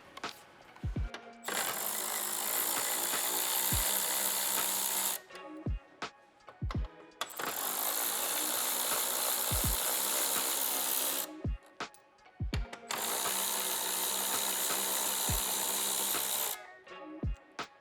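Power tool whirring in three long sustained bursts as 10mm bolts come off the top of the front bumper on a 2025 6th Gen Toyota 4Runner, separated by short clicks and clunks of handling.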